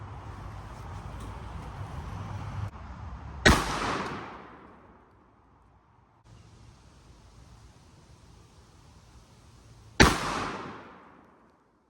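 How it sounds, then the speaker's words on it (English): Two loud 12-gauge shotgun blasts go off outdoors into an air conditioner, several seconds apart, each a sharp crack followed by a rolling echo that fades away. "Let's fire a couple more shots into her."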